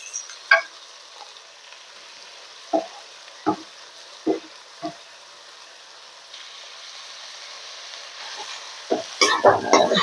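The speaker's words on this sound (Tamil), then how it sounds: "தக்காளியை போட்டோன்னே நல்லா வதக்கி விட்டுக்கோங்க." Onions and tomatoes for prawn thokku being stirred in a pan, a soft steady sizzle broken by several sharp spoon scrapes and clacks, busier stirring at the end.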